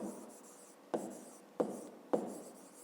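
Pen strokes on paper during a fifth-grade maths exercise, three short scratchy marks at even spacing over a faint steady hiss, close and quiet with no talk.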